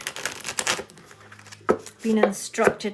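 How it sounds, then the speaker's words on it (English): Tarot cards are shuffled in quick bursts of crisp riffling and tapping, close up, with brief pauses between handfuls and speech-like sounds mixed in. "I'm just going to do a quick shuffle in the card."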